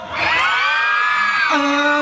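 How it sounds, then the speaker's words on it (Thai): Fan club crowd at a live fan event screaming and cheering loudly and continuously, a dense sustained roar of high-pitched shrieks that swells and holds for the whole stretch. "ต้องกรี๊ดให้ดังกว่านี้"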